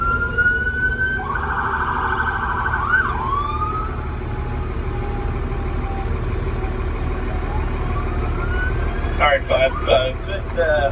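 A European-style two-tone fire engine siren wails loudly from close by in a vehicle cab, over steady engine rumble, with a short burst of yelping near the end.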